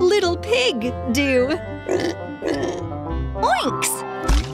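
A cartoon little pig makes a run of squealy, snorting oinks and grunts, close and loud, with a voiced, speech-like quality.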